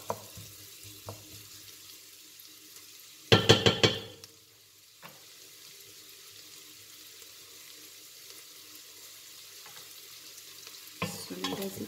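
Food fries in butter in a pan, giving a low, quiet sizzle with scattered soft scrapes. Loud bursts of stirring and clattering come from the utensil, one near the start and another at the end.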